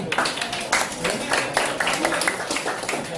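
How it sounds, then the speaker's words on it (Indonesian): Hands clap in a classroom or lesson setting, a dense patter of applause running steadily for a few seconds at moderate volume. "Ya, tepuk tangan."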